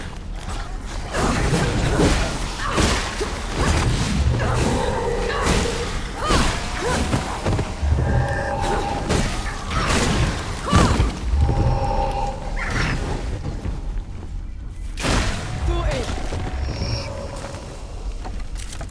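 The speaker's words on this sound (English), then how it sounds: "whoever blew those barrels caused a cave-in" Deep booms and rumbling from a barrel explosion and mine cave-in in the video game Flintlock The Siege of Dawn, with repeated heavy thuds, creaks and debris crashes rolling over a dense, loud bed of noise.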